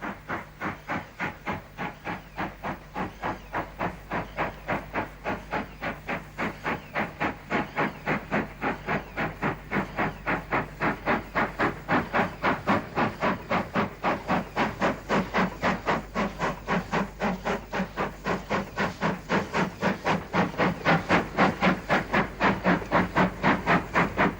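An Austerity steam locomotive works a train on the South Staffs line near Hammerwich, its loud exhaust beating in a fast, steady chuff over a hissing background, continuous and close with no voices.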